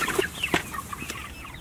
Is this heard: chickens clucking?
yes